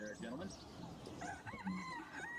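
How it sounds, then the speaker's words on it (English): A rooster crows nearby with a rising, wavering call over a low background, followed by a few clucks. "That's a rooster."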